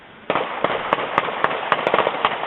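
Gunshots at a Chicago crime scene, a rapid run of sharp cracking reports fired in irregular bursts, loud and fairly close, with no voices over them.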